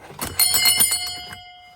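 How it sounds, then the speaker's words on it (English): A workshop bell pulled by hand through an old speedometer cable rings several quick metallic strikes in a rapid cluster, close and bright, then decays into a lingering ring. "It's a bell with an old speedo cable."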